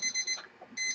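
A kitchen timer alarm goes off nearby, a rapid pulsing electronic beep that cuts out briefly and then resumes.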